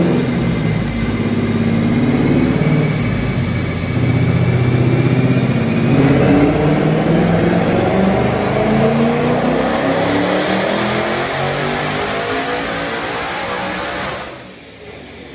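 A twin-turbo Mustang engine revs hard on a dyno at a higher boost setting, a loud sustained climbing roar with rising whine that holds for several seconds before cutting off abruptly near the end.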